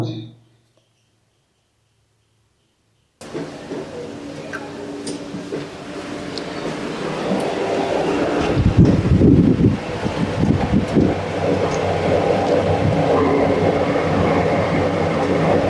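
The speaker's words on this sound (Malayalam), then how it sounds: "ലിഫ്റ്റ് മുകളിലോട്ട് പോയിക്കൊണ്ടിരിക്കുകയാണ്." The lift inside Kollam's Thangassery lighthouse rises. After a near-silent start, a steady mechanical rumble and hum sets in, growing louder and rattling in the middle before it settles.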